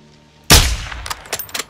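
A single sharp, loud sniper rifle shot rings out in the shooter game Call of Duty Modern Warfare II, followed by a decaying echo and a few light mechanical clicks.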